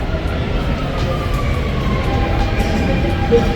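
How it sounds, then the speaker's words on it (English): A train arriving at a station platform, heard as a steady, loud rumble of rail cars with faint high squeals, continuous throughout with no talk over it. "I guess the train is here"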